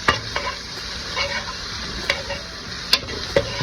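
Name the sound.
sautéing green pepper and onion in garlic butter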